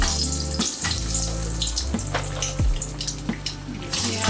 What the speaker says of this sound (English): Let's see how they fry up.